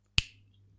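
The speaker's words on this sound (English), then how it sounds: "did you snap your fingers?" A single crisp finger snap rings out close and clear in an otherwise quiet room, with a brief fading tail.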